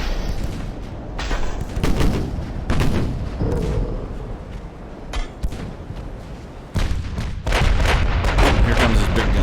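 Heavy naval guns of early twentieth-century battleships firing in the naval strategy game Ultimate Admiral: Dreadnoughts, a run of loud booming salvos with rumbling tails, the last blast at the end the strongest.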